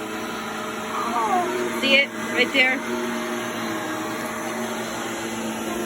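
A household vacuum cleaner drones steadily close by as a bed of constant motor hum, while people talk over it.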